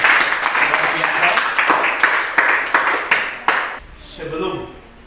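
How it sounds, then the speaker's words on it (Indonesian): Classroom applause for a student group: a burst of hand claps with rhythmic, near claps in a steady beat that fades out after about four seconds, with voices underneath. "Tepuk tangan buat kelompok."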